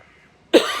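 One sudden, sharp cough bursts out close by after a near-silent pause, a harsh single expulsion that trails off briefly.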